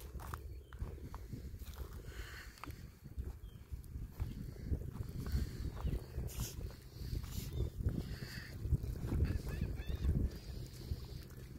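Birds calling at low tide on Florida Bay, scattered honks and squawks over a steady wash of shore noise and faint footsteps, moderately distant and fairly quiet.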